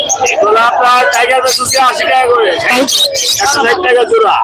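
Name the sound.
chicken chicks chirping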